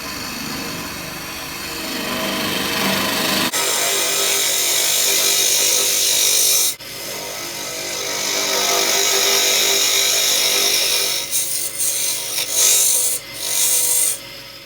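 A gouge on a wood lathe shears end grain while hollowing a goblet, giving a continuous rough scraping hiss over the lathe's hum, broken by brief pauses and changes in pressure near the end.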